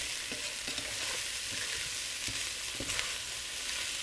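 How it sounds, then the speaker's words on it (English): Brussels sprouts with bacon and mustard are stirred in a hot pan, giving a steady sizzle broken by repeated scraping strokes of the spoon, close and without talk. "Give it a stir and kind of get it coated up"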